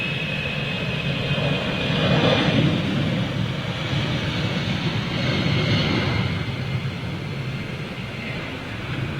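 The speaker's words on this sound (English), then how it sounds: "American Dreamliner coming out." An American Airlines Boeing Dreamliner taxis past at an airport, a steady broad jet-engine roar holding at moderate loudness with a faint high whine throughout and a slight swell partway through.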